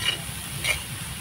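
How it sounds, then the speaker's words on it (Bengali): Cauliflower florets seasoned with salt and turmeric fry and are stirred in a pan, giving a steady close sizzle with a couple of brief scraping stirs. "এবার আমি নাড়াচাড়া করে ফুলকপিগুলোকে হালকা ভেজে নেব"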